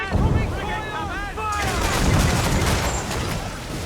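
Naval cannon and gunfire from Assassin's Creed Black Flag: a burst of sharp reports with whooshing, sweeping tones early on, then a dense, roaring barrage of overlapping shots and blasts that stays loud to the end.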